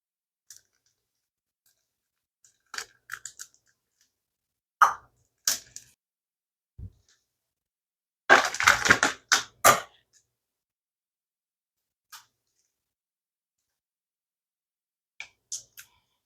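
Plastic casing being peeled off Mexican chorizo, sparse close clicks, creaks and soft sticky crinkles in short bursts with quiet gaps, the busiest stretch coming midway.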